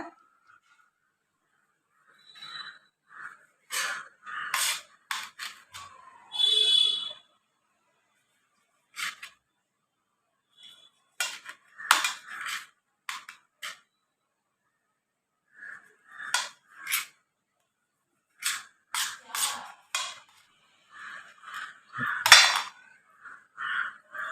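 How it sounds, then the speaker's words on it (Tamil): Cooked goat spleen being cut into pieces with a knife on a board in a home kitchen, a series of sharp, close chopping knocks and clinks in irregular bursts separated by silent pauses. "நல்லா வெந்துருச்சு பீஸ் பீஸாக கட் பண்ண போகிறேன்"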